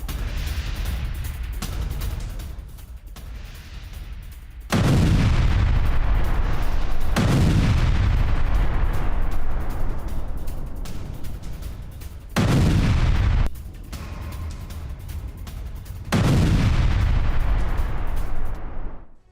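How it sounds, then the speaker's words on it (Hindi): Several powerful booming explosions from FPV drone strikes on a Russian military truck, each a sudden loud blast followed by a long rumbling decay, separated by quieter stretches. "रूस के सैन्य ट्रक में जोरदार धमाका।"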